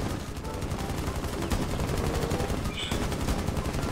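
Rapid automatic gunfire in the video game Rainbow Six Siege, a loud, continuous rattling burst of closely spaced shots that runs nearly without pause.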